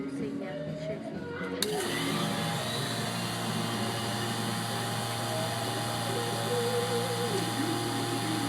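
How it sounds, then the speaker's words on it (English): Vacuum pump runs to warm up its oil with no vacuum applied, switching on partway through and then holding a steady, loud mechanical drone with a constant hum underneath. "Most vacuum pumps you do want to turn on for a few minutes without putting a vacuum on them."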